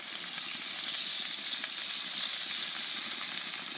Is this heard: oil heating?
yes